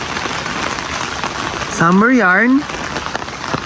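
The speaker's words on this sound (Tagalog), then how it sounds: "At bumuhos na nga ang malakas na ulan." Heavy rain pours steadily on a forest camp during a rainy summer outing with a Hilux 4x4, a dense constant hiss, while someone briefly speaks over it.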